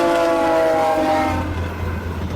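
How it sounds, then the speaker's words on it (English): A train horn sounds loud and sustained for about a second and a half, then gives way to the low rumble of the passing train, heard from a road vehicle slowing for it. "We have to slow down for the train here"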